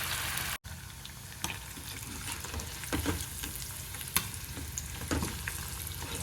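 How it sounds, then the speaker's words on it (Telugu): Murrel fish pieces fry in a pan over a low flame with a steady, soft sizzle and a few light scraping clicks from stirring. "ఇలా సిమ్లో పెట్టేసి చక్కగా వేయించుకోవాలండి."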